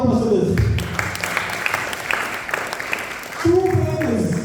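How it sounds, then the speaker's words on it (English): Audience clapping at a Bhagavad Gita study gathering, a broad wash of hands that swells, thins out and then rises again near the end, with voices talking over it. "Please give a round of applause for this."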